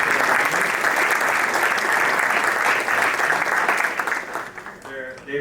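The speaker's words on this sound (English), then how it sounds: "So can we just give another round of applause for our co-faculty advisors?" Loud, dense applause fills the room at an awards dinner for two co-faculty advisors, holding strong before tapering off as a voice begins speaking near the end.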